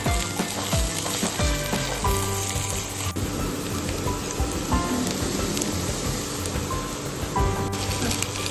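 Grated ginger and garlic sauté in a pan with a dense, crackling sizzle and intermittent stirring, while faint background music tones run underneath, and no one talks.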